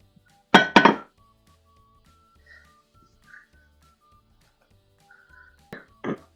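A cooking pot being handled: two sharp metallic clanks close together, then a few faint ringing taps and one more pair of clinks near the end, with quiet gaps between them.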